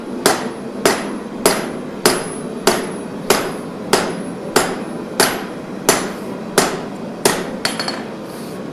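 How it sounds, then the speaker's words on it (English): Hammer blows on metal while forging a large knife, about thirteen sharp, loud, evenly spaced strikes, each ringing briefly before the next. "That was a bad hammer strike."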